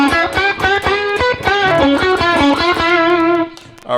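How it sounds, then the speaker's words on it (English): A guitar built into a VW body plays through a distortion effect, picking a quick run of bright, gritty notes that ends on a held tone, loud and close with no talk. "Let's try distortion."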